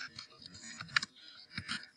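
Computer keyboard keys tapped while entering text into a whiteboard text box in Canvas Conference, a few sparse, light clicks spaced irregularly over two seconds, quiet and close with no talk.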